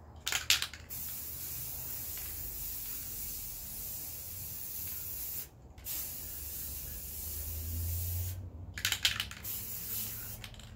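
A spray paint can hisses in short bursts over a wood round Halloween sign outdoors in calm weather, close bursts at the start, middle and near the end with quieter background between.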